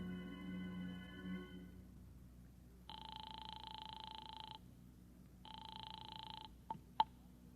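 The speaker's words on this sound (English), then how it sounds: "then I beat it to the nearest phone booth and called Howard Wilcox's home" Phone call placed from a public phone booth, with two long, steady ringback tones sounding over a faint low hum, followed by a couple of sharp clicks as the line is picked up.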